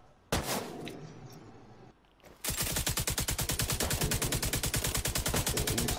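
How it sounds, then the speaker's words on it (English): Rapid gunfire in a video game, one loud shot and a short burst early on, then a long unbroken stream of evenly spaced, fast shots that stays loud and close to the end. "He's still using the sniper."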